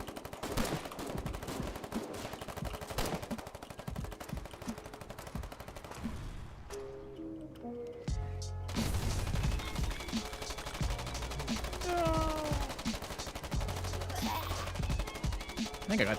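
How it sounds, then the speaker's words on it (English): Rapid bursts of machine gun fire in a video game, sharp repeated shots in long volleys with a brief near-silent gap midway, followed by heavier low booming and continued gunfire. "Oh, I hit the machine gun."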